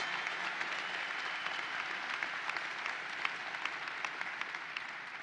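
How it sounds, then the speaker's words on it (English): A large crowd applauds steadily for Van Robinson at the opening of the State Fair, a dense, even wash of clapping held at moderate level throughout with no voices over it. "Let's give Van Robinson a great round of applause."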